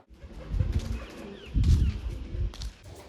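Pigeons coo in low throaty bursts on a rooftop, several rounds close by, with faint wing flutters and background rustle, no talking.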